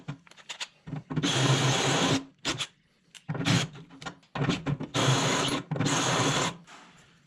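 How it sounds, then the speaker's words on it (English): A power drill with a step drill bit runs in several loud, close bursts of a second or so, separated by short pauses and clicks, grinding steadily into metal while drilling a hole for a tractor loader bucket. "Go ahead and try the stepper bit and see how it works."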